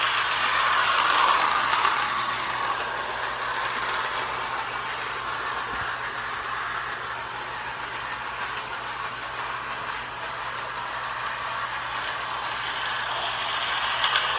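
A Mickey and Minnie toy handcar runs along its track with a steady mechanical whir and rattle that stays fairly loud and constant, swelling slightly as it passes.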